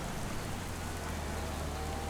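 Steady rain falls on a homestead, a dense even hiss of drops hitting surfaces without pause, moderately loud and unbroken throughout.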